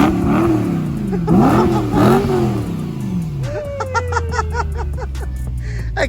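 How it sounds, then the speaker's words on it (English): A BMW E92 M3 with its stock OEM exhaust revs three times in quick succession, each rising and falling swell loud and close. It then settles into a lower idle while faint crackles sound over the exhaust. "Give us a few revs."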